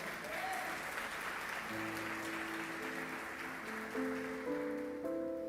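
Church congregation applauding during a sermon, a continuous soft wash of clapping with sustained organ or keyboard chords entering partway and building underneath.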